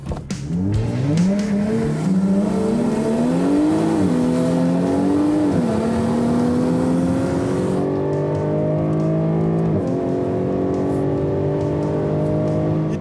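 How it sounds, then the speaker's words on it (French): A 3-litre naturally aspirated V6 race car on an airfield runway circuit screams close by, its engine revving hard and climbing through several gear changes, then dropping back and rising again over thirteen seconds with no talk. "le bruit d'un petit V6 qui hurle"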